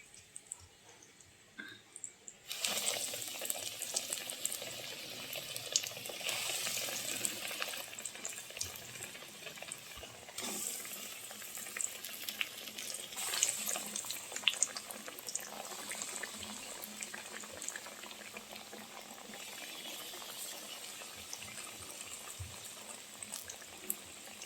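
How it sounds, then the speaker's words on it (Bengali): Eggplant slices for begun sundori sizzling in hot oil over a lowered flame, a dense, steady crackle that starts abruptly after a short quiet moment and carries on with scattered pops and spits throughout. "এই যে আমরা বেগুন সুন্দরী ঠিক এভাবে ভেজে নিচ্ছি"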